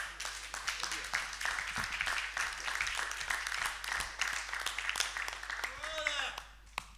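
A council meeting audience claps in a loose, moderately dense round of applause that runs throughout, with some voices in the room underneath and a faint tonal whine near the end.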